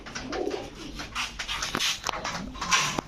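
Pigeons coo softly and steadily in a crowded pigeon shop, with rustling and faint bird chatter around them, fairly close and without clear speech.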